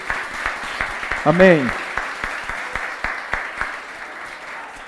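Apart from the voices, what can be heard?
church congregation applauding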